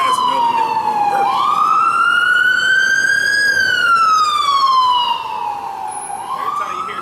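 Wailing emergency siren, close and loud, sweeping steadily up and down in long slow glides with strong harmonics, heard alone with no talk over it.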